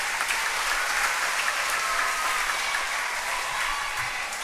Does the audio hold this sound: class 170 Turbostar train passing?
no